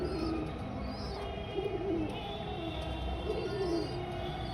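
A domestic pigeon gives three distinct throaty coos spaced about two seconds apart, near and fairly loud against a quiet, steady background hum.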